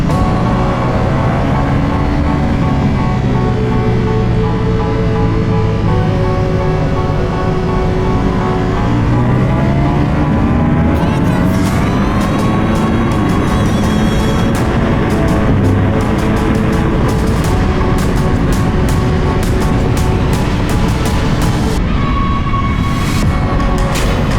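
Ducati Panigale V4S sport bikes lapping a race track, engines droning and rising in pitch loudly and continuously, with sharper high revs and passes building toward the end.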